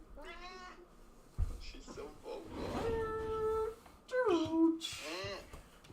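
A cat meows in Minecraft while being patted, with several drawn-out, tonal meows, close and clear, spread over a few seconds with a short thud between.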